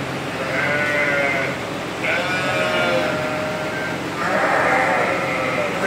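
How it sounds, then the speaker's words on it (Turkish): Several yearling Kangal lambs bleat in overlapping, wavering calls, close by, with a steady outdoor murmur of rain underneath and no talking. "Şunlar şişek kuzuları."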